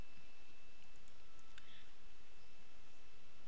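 A mouse clicks a few times in quick succession while selecting tasks and auto scheduling them in Microsoft Project. The clicks are crisp and close against a faint steady background hiss, with no speech.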